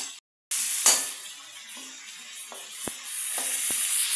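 Julienned carrots, about 200 grams, sizzle in a pan for Indo-Chinese veg noodles, a steady frying hiss with a few sharp stirring clicks after a brief silent gap at the start.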